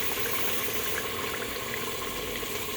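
About 200 ml of water is poured into a cooking pot of aloo gosht with green chillies, a steady broadband rushing splash that runs unbroken and fairly loud throughout.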